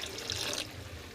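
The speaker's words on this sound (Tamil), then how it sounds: "அது மாதிரி தண்ணியும் விடுறேன்" Water pouring into a pot of squid curry being cooked, a short bright splashing stream that stops abruptly partway through, leaving a low background hum.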